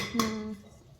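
A new metal kadhai cooking pan being handled gives a single bright clang with a ringing tone that fades over about half a second, fairly faint and close, with no talk over it.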